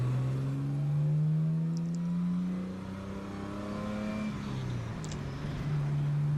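A 1965 Jaguar car engine plays back from a recording, revving up and down through its range in smooth, rising and falling sweeps, moderately loud and alone.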